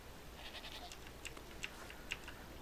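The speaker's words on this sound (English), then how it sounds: "Oh, and there's our domesticated little goaty goats." Domesticated goats bleat faintly in the prehistoric settlement game Dawn of Man, a few brief distant calls over a steady low background hiss.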